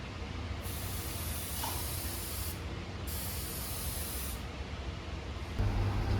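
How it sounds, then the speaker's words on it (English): Hydrolux Filling Primer hisses from a spray gun onto pine sample boards in a steady, close, broadband spray, cutting out and restarting between passes, with no talking. "we're going to be spraying our Hydrolux Filling Primer on some samples of pine here."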